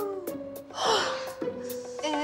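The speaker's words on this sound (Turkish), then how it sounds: "Derin derin nefes alıyorum." A person takes one deep, audible breath midway, set against a steady tonal background with faint vocal sounds around it.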